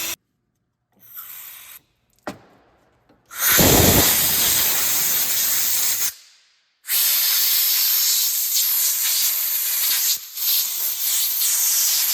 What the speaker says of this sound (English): I just spray a bit of brake cleaner on the ends of these just to get the rust off